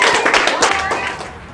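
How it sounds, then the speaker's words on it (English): School assembly audience clapping in a dense, continuous patter with voices mixed in underneath, fairly close and steady throughout the short burst. "Big round of applause."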